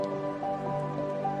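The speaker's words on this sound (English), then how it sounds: "For 40 days and 40 nights, the rain continued to pour down" Steady rain patters down on a surface with a soft, even hiss and faint drips, a continuous downpour used as a sound effect behind a storytelling scene.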